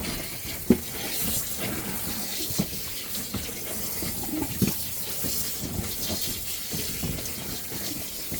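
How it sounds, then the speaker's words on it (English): Rinse water draining and running while laundry is rinsed and turned in a small RV washing machine, a steady close splashing rush with occasional soft knocks, no voices. "Are you letting the rinse water drain out as you're rinsing and turning?"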